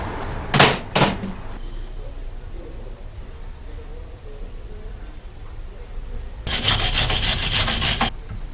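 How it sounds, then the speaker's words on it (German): A wooden wedge is sanded flat by hand, with two quick scraping knocks at the start, a quiet stretch, then a rapid rhythmic rasping stroke sequence near the end, loud and close. "Plan schleifen."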